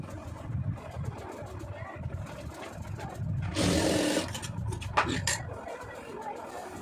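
A sewing machine stitches fabric for a blouse cup and neckline, a steady whirring burst of about a second in the middle, over a murky room background.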